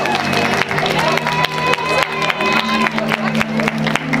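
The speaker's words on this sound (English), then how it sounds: "I want you to give one amazing applause" A crowd at a costume contest on stage bursts into loud applause with cheering and whoops, dense clapping sustained throughout with a few sharp peaks.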